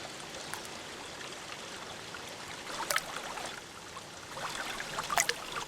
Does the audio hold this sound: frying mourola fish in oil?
no